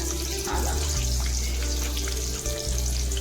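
Garlic and green chilies fry in hot oil, a steady, close sizzle with a constant crackling hiss and low rumbling underneath, and no one speaking.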